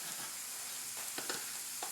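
Flour tortillas toast in a hot pan with a soft, even hiss punctuated by a few faint crackles, quiet and close with no voices.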